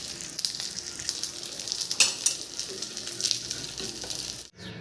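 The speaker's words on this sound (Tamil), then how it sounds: "இப்போது மீன் ரெண்டு பக்கமும் நல்லா வறுபட்டுடுச்சு" Fish frying in hot oil in a pan gives a steady, close hiss and crackle with small spitting pops, constant throughout and without talking.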